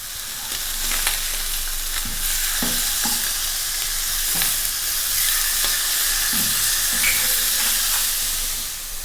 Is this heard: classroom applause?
no